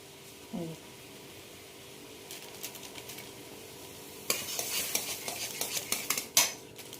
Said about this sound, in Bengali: চালের গুঁড়ো দিয়ে ঘুলে দেওয়া হবে।